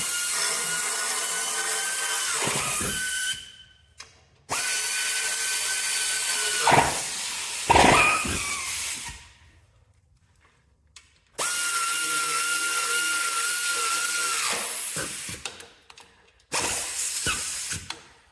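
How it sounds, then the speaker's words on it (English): A 1/4 inch air ratchet impact rattles in several loud bursts separated by pauses, tightening bolts while assembling a plow day tractor, close and without any talking. "Now I'm going to use a 1/4 inch air impact, ratchet impact, and I'm going to tighten them up a little bit tighter with a wrench."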